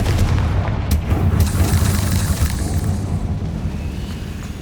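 A Confringo fire-blast spell explodes in a Hogwarts video game: a loud, deep booming blast with a sharp crack near the start, then a rumbling roar that slowly fades.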